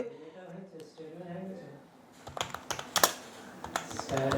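Typing on a computer keyboard: a voice talks for the first half, then a quick run of crisp, close key clicks follows, closing with more talk.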